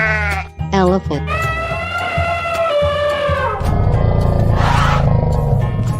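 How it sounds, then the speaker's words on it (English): A cartoon-style elephant trumpets in a long, rising and falling cry over a busy bed of backing music and effects, loud and close, following a couple of short bleating calls. "Elephant."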